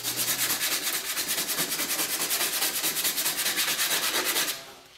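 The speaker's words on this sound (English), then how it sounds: "Here I have a 120 grit sandpaper and start leaving scratch marks" Hand sanding of rusted car body metal with 120 grit sandpaper, a fast run of rhythmic rasping strokes, close and fairly loud, that stop shortly before the end.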